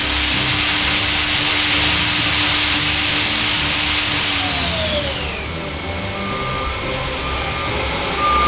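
A 2012 Haas ST-10T CNC lathe spindle winds up toward 6,000 RPM, a steady loud machine whine whose pitch sweeps and settles partway through, under constant broadband hum with no talking.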